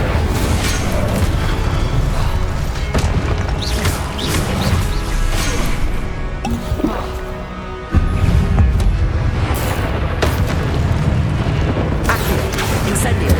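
The Incendio fire spell goes off in a Harry Potter video game as heavy, roaring blasts and crashing impacts that stay loud and dense throughout, with one sharp burst partway through.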